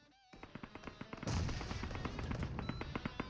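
Grenade blasts and rapid gunfire in a competitive multiplayer scrim match, heard as a run of sharp, evenly spaced bangs with one heavier, fuller explosion near the middle, loud and close with no talk.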